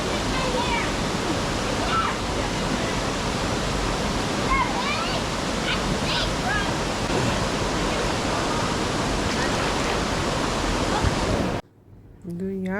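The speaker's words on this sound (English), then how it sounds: "how freaking beautiful this river is? How it is just flowing." A river in Jamaica rushes loudly and continuously nearby, a dense unbroken wash of flowing water, with a few faint voices now and then, before the sound cuts off abruptly near the end.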